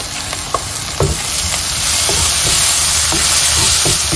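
Onions with turmeric frying in a pan, a loud, close, continuous sizzle that swells slightly, punctuated by a few soft stirring scrapes.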